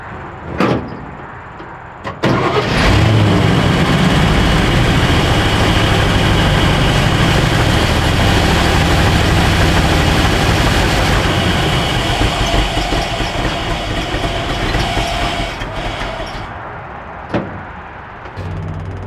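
Old Chevy truck engine, a family-owned truck kept for 60 years, running lean and short of fuel, starts after a couple of sharp knocks and then runs as a loud, steady, rough roar. It holds for about 13 seconds and then cuts off abruptly near the end.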